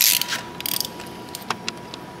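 A wrench works 10 millimeter bolts on tension supports of an LS engine, a quick run of close ratcheting clicks followed by a few scattered metallic ticks.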